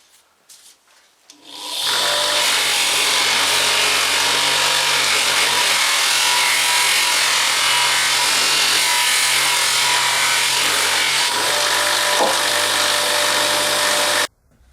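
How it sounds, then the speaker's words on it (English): Buffing wheel taking the burr off a freshly ground blade edge, a loud, steady, close whirring rush that holds unbroken for about twelve seconds before cutting off, with no talking. "So what we're going to do is just get on that onto the buffing wheel"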